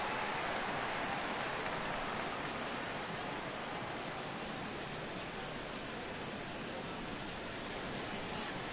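Steady rain hiss in a baseball video game, the Astros franchise mode playing the 2017 Futures Game, World vs USA; constant broadband downpour filling the whole stretch with no talk over it.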